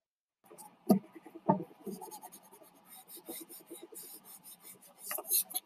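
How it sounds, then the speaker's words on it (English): A pencil eraser is rubbed over pencil lines on paper as artwork is cleaned up before coloring, making quick rasping scrubs in bursts that are close and fairly quiet, with a couple of sharper taps. "I want to go through and erase any pencil lines that are still showing"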